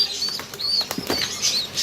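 Pigeons flap their wings close by in quick, fluttering bursts, with faint soft chirps and coos mixed in between the wingbeats.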